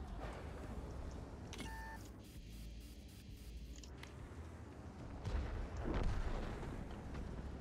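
A Panhard EBR 90 armoured car fires its cannon in a video game, a single heavy boom over a steady engine rumble, with a couple of short electronic beeps earlier.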